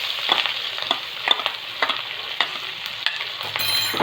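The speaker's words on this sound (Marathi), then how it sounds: "असं फ्राय करायचं." Ginger, garlic and chilli frying in hot oil and butter over a high flame, a bright close sizzle punctuated by regular spoon strokes against the pan, with no talking.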